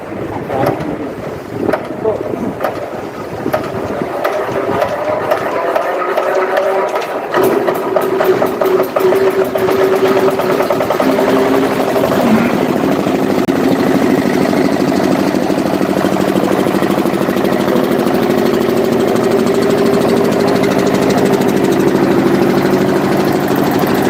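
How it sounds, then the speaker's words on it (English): A diesel engine runs in a thermal engineering lab, starting from a patchy rattle and settling into a loud, steady, continuous drone with mechanical clatter. "once the engine gains certain momentum, immediately disengage, by means of which the exhaust valve will be closed"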